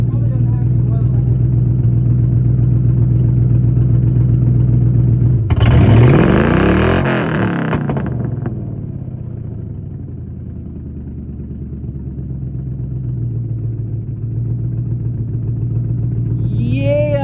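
A Ford Mustang 4.6 V8 with a blown-off exhaust and burnt rings idles loud and rough, surges into one sharp harsh rev, then settles back to a steady heavy idle.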